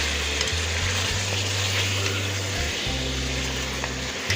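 Chicken pieces for chicken karahi sizzle loudly in a hot pan, a dense, continuous frying hiss up close with stirring scrapes, under music and no talking.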